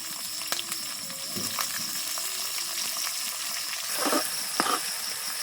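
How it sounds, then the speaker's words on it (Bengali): Onions sizzle steadily in hot oil for a duck and potato curry, a constant close frying hiss with a few brief crackles and louder pops near the end and no talking. "পেঁয়াজ লাল লাল ভাজা হয়ে গেছে।"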